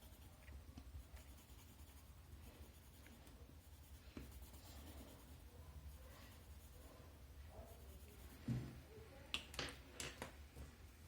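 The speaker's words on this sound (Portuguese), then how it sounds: "vou usar um lápis verde mais claro pra fazer a parte aqui, ó, mais clara também, dando uma suavizada" A light green colored pencil shades and smooths a drawing on paper, with soft, close scratchy strokes in uneven bursts and a few sharper taps near the end.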